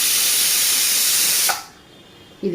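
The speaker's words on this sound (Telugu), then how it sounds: "ఇటుపక్క మనకి కాళ్ళ కూర కూడా విజిల్ వచ్చేసినాయి, ఆపేస్తున్నా" A pressure cooker of trotters curry hissing loudly with a steady jet of steam that drops off sharply partway through, followed by a short clatter.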